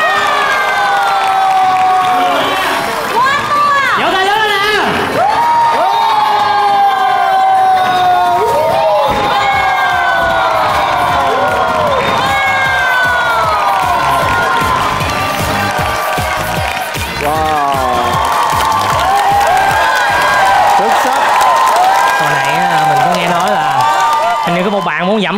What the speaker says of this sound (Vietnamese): Vỗ tay lớn nè.